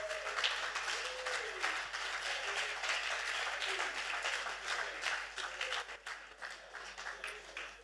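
Church congregation clapping steadily together in praise of the Lord, a continuous moderately loud wash of applause that tapers slightly near the end.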